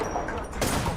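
Gunfire in a shooter video game crackles as a brief, rapid burst of shots, moderately loud over a busy game soundscape for about a second.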